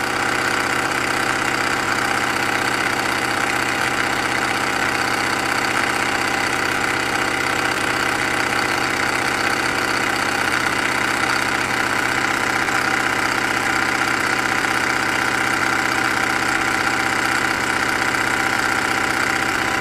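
A Robart hobby paint shaker runs continuously with a large paint bottle clamped in it, giving a loud, steady motorized buzz and rattle that holds unchanged throughout without talk.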